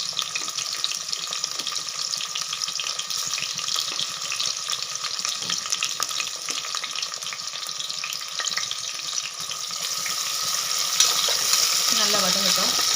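Green chillies sauté in a pan of oil for chicken biryani, a steady close crackling sizzle running without pause, with a faint tap-water-like wash in the background.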